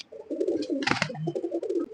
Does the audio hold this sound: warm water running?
no